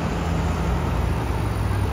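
An International 955 XL tractor engine runs at a steady idle, a low continuous rumbling drone that holds even and fairly close throughout.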